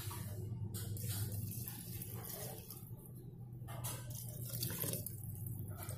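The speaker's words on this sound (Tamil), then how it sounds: "போட்டுட்டு தண்ணி ஊற்றிடலாம்." Water pours into a pressure cooker holding plantain flower with turmeric and a spoon of oil, a soft, fairly quiet splashing stream that swells and eases over a few seconds, with no voices.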